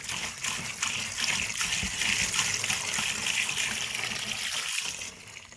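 About a gallon of rust remover liquid gushes steadily from a container into a bath for a rusty McCulloch Model 77 chainsaw bar and chain, a continuous close splashing pour that tapers off at the end.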